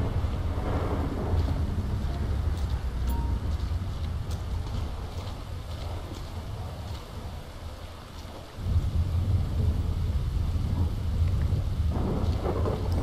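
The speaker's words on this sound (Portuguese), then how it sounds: "Caraca, velho, que chuva." Steady heavy rain pours under low rumbling thunder in the video game GTA V, with a deeper roll surging in near the end, loud and continuous without any talking.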